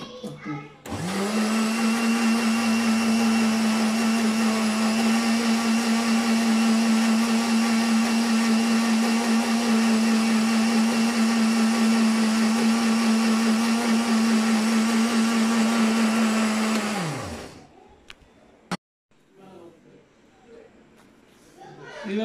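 Electric mixer-grinder whirring at a steady high pitch as it powders sugar, loud and close for about sixteen seconds before winding down, then brief clatter and quiet.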